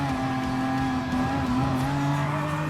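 Racing engines from the Gran Turismo Sport video game, including a 2017 Lexus RC F GT3 and a Ford GT race car, drone steadily at high revs in a continuous loud tone with no talk over it.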